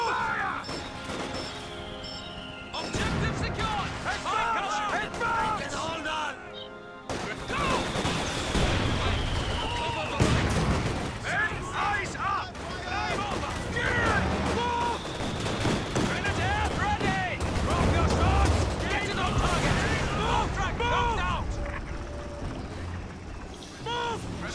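Gunfire and artillery in the World War II strategy game Company of Heroes 2, with dense bursts of rifle and machine-gun fire and heavy crashing impacts running almost continuously, loud and close, with shouted voices mixed in.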